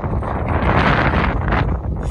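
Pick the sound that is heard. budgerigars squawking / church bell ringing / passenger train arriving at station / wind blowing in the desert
wind blowing in the desert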